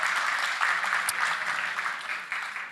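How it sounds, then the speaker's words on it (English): Forum audience applauding, a dense, steady wash of many hands clapping that holds throughout and tapers slightly toward the end, heard from within the hall. "More applause, please."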